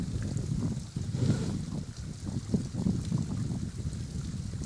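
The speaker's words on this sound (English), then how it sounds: "look at there last night with that water running off the rock" Water running off the rock at a quarry after days of rain, a continuous rushing, gurgling flow with wind buffeting the microphone, steady and fairly close, with no one talking.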